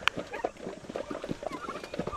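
Turkeys on a farm giving short, soft clucks and gobbling calls, several birds close by, faint and scattered with quiet rustling between calls.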